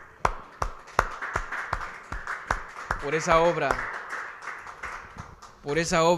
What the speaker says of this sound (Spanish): Yo le quiero dar un aplauso a mi Señor